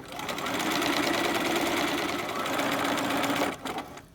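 A sewing machine stitches in an invisible zipper, giving a loud, steady mechanical whir for about three and a half seconds before abruptly stopping.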